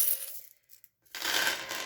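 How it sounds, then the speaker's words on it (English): Metal bolts tip into a glass vial during a relative-mass activity: a brief rattle, a near-silent pause, then a long bright jangle of many bolts clattering and settling against each other, close and fairly loud, with no talking. "I am now going to add an unknown number of bolts into the vial"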